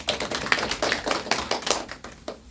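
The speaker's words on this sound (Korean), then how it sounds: "박수 소리가 너무 작아서" Sparse, thin applause from a small audience at an admissions briefing, a handful of light claps in an uneven rhythm, close and brief with no talking.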